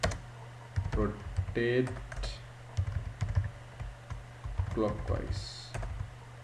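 Code is typed on a computer keyboard, with short bursts of close, crisp key clicks in an irregular rhythm, while someone talks over and between the keystrokes.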